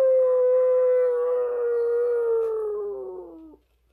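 A single sustained sad dog howl imitated by human voice, a long wavering tone that slowly falls in pitch and fades out, loud and close with no other sound.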